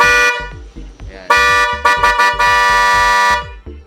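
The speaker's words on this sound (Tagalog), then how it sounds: "naka-high na yung Mitsuba air horn natin" A loud, bright high-frequency Mitsuba car air horn blasts repeatedly in short and long bursts, piercing and close, with low rumbling beneath.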